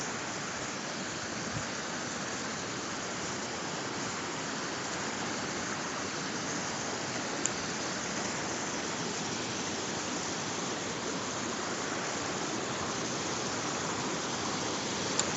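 A river rushes about two metres away, a dense constant roar of flowing water that stays even and loud throughout, with no voices over it.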